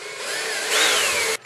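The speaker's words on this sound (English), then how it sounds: "I'm going to drill my hole for a new handle." A power drill bores a hole for a new handle in a sideboard drawer, whining loudly and close for just over a second, its pitch rising as it bites in, then stopping sharply.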